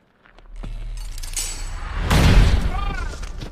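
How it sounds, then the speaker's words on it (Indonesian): A booby-trap explosion in a film: a loud, broad burst with a rumbling low end and shattering debris, arriving after a low drone and lingering briefly as it fades. "tiba-tiba terdengar suara ledakan dari jebakan yang telah dipasang sebelumnya"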